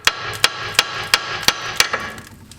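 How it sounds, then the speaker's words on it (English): Six sharp metallic hammer taps on a Jeep tie rod end strike at a steady, even pace, each ringing briefly, followed by a quieter knock and silence. "Going to need a hammer and just give this light"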